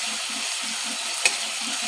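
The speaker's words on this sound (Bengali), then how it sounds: "রসুন বাটাটা ভালোভাবে কষিয়ে নেব।" Garlic paste frying in a pan while being cooked down for a prawn and green jackfruit curry, a steady close sizzle with soft periodic stirring scrapes and one brief clink, no voices.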